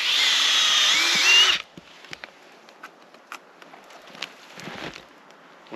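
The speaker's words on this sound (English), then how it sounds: "in with the drill, you want to make sure you're going straight in and straight back out." A power drill bores into a maple tree, whining loudly for a second and a half, then stops, leaving scattered close clicks, scrapes and rustles.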